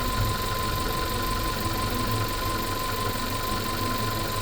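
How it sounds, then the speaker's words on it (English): A swapped-in engine in a VW Polo idles roughly, a steady close mechanical drone with a faint low knock and constant vibration running alone throughout. "Just a little bit of a rough idle every so often."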